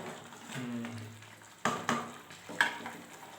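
Gentle sizzling and bubbling of cauliflower gravy simmering in a pan, with a few sharper clinks and stirring clatters breaking through near the end.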